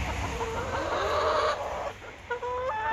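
Hens clucking and squawking inside their coop in the morning, a busy, near chorus of overlapping calls with a few sharper rising squawks toward the end.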